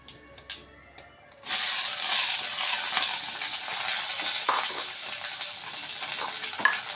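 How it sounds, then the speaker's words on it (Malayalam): Curry leaves, shallots and garlic hit hot oil with a sudden loud sizzle after a quiet start, then keep crackling steadily with occasional pops and stirring scrapes. "കരിയേപ്പില ഇട്ടു ചെറിയ ഉള്ളി വെളുത്തുള്ളി"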